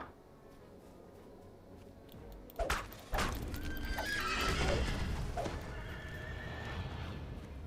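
A horse in a video game, set in a zoo area, neighs loudly with a long whinny over a steady ambient background, alongside a few sharp clopping hits, with no talk.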